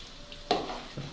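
Shrimp fritters (ote-ote udang) frying in a pan produce a soft background sizzle, broken midway by a short scraping stir of a spatula against the pan.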